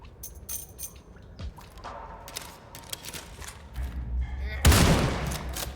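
Gunfire and sniper shots in the video game Sulfur: a burst of sharp rapid shots at the start, scattered single cracks through the middle, and a loud heavy blast near the end, with a voice talking over parts of it.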